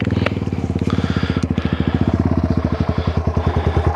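A 2013 Yamaha TW200 trail motorcycle on a dirt trail, its single-cylinder engine thumping in a fast, even pulse close by, loud and steady as it rolls past.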